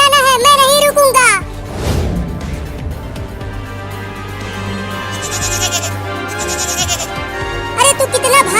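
A cartoon baby goat gives a loud, wavering bleat at the start and again at the end, with a voice talking in between.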